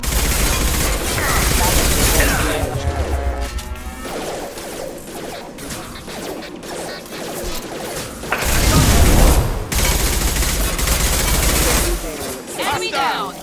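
Rapid, loud gunfire in Mass Effect 2 with clattering mechanical impacts and a heavy burst partway through, mixed under overlapping voices.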